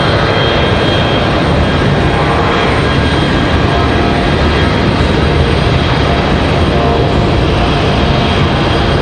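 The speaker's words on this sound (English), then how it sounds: "CRJ on the move" A CRJ regional jet taxiing, its engines giving a loud, steady, close rumble and whine with no break.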